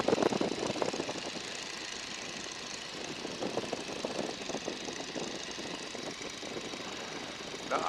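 A 1942 Boeing N2S-2 Stearman biplane's radial engine runs at reduced power, about 1,500 RPM, during flight: a steady, loud, rough drone with a knocking pulse, heard alone.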